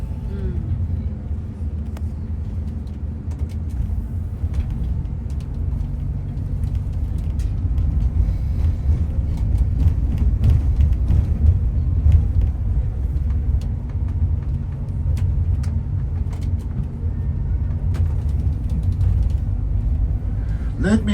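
Tour bus driving on a road in Turkey, with a steady low engine rumble and road noise heard from inside the cabin throughout, with talk from the front of the bus over it.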